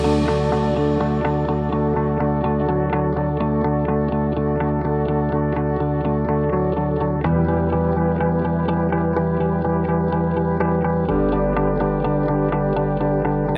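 Soft-toned piano drenched in reverb for ambience, with a low bass line entering underneath near the end; a steady, sustained music-production passage with no voices.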